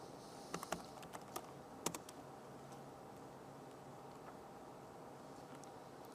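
Keystrokes tap on a computer keyboard during a tech conference demo, a quiet cluster of clicks early on followed by a few sparse taps over faint room hum.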